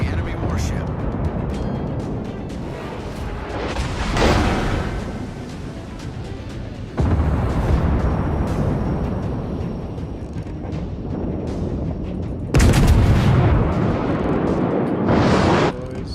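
Heavy naval gunfire from warships in a World of Warships battle against an enemy battleship, with loud booming salvos and rumbling explosions that swell and cut in repeatedly, running under a talking voice.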